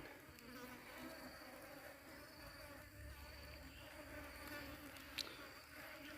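Dense swarm of bees buzzing around a beehive blown down from a tree by a summer storm, a steady faint drone with one brief louder buzz passing near the end.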